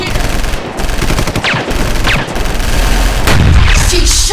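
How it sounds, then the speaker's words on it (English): A film scene carries loud, close gunfire: rapid overlapping bursts of shots with booming blasts, almost unbroken across the whole stretch and dense enough to mask any background. "She shot at me."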